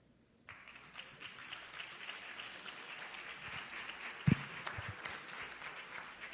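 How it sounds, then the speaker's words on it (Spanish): Legislators in a chamber session breaking into applause after a pause, a steady but distant wash of clapping with a loud thump partway through, moderately faint. "Los diputados que le aplauden,"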